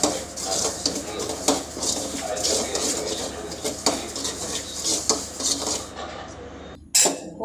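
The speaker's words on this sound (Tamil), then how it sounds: "ஃபஸ்ட்டு நெய் போட்டு ரவையை கொஞ்சம் நல்லா வறுத்துக்கலாம்." Metal utensil scraping and clinking against a pan as semolina is stirred and roasted in ghee, steady busy scraping with a brief pause near the end.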